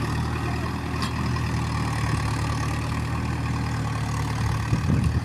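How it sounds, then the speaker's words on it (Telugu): A farm tractor engine runs steadily near a well, giving a continuous low rumbling drone at constant loudness for the whole stretch, with no voices. "అందుకే ట్రాక్టర్ సౌండ్ బాగా వస్తుంది"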